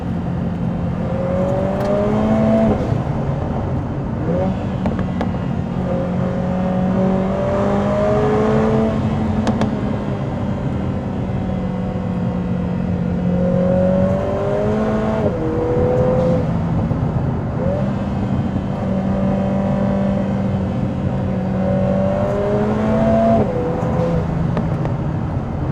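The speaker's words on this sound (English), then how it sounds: "Crackles from the exhaust." Lotus Emira Turbo engine and exhaust pulling hard on a canyon drive, revs climbing and dropping through crisp dual-clutch shifts with occasional crackles, steady and close throughout.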